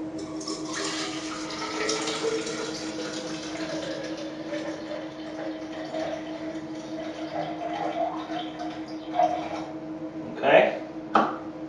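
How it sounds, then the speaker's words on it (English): Water poured into a container to bring a black-and-white film developer solution up to 375 ml, a steady running trickle that swells into a few louder splashes toward the end. "so we'll add the remaining water to"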